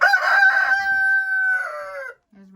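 Laying hens in a frozen winter coop, one bird giving a loud, drawn-out crowing call close up, followed by a short quiet gap and a soft low cluck.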